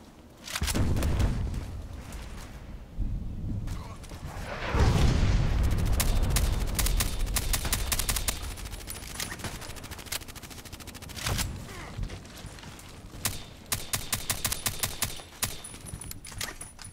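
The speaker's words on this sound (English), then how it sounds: "I hate this automatic shooting." Automatic rifle fire in a shooter video game, with rapid bursts of loud, sharp gunshots that come in dense, repeated clusters throughout, some heavier booming blasts mixed in.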